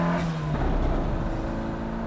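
A rally race car built for track use accelerates hard on a circuit, its engine note loud and close, rising through a steady high-revving pitch for about two seconds with no voices.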